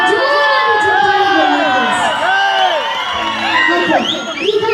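Crowd cheering and whooping for Puneeth Rajkumar at a live event, loud and close, with shouting voices and children's yells layered over a stage announcer's talk and music.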